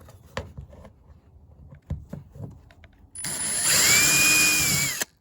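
A power drill bores into the back of a Blaster Surface Shield, a steady high whine for about two seconds after some handling knocks and scrapes.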